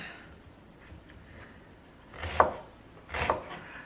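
Two crisp, close knife cuts strike the board in quick succession as an onion is sliced into half rings, preceded by quiet handling.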